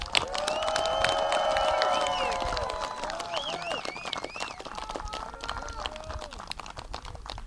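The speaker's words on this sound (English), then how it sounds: "Give them a round of applause" An audience at a junior high school 8th grade promotion ceremony cheers and claps for the graduating class, with whoops and shouts over steady applause, fairly distant and fading toward the end.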